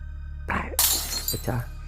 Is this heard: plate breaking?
yes